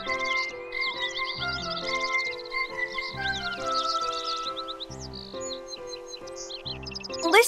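Birds in the video game Kingdom Hearts III sing bright, quick chirping phrases over a gentle, regularly pulsing musical backing, moderately loud and close.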